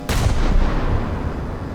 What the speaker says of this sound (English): that's a cram cannon up on the front